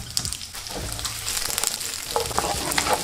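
Shallots sizzle and crackle in oil in a pan over medium-low heat, a close, steady frying hiss with occasional louder pops and stirring scrapes.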